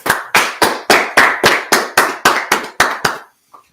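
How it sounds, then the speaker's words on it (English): A group claps in steady unison at a gathering, about eleven loud, evenly spaced claps that stop abruptly, followed by one faint tap. "let's clap it up"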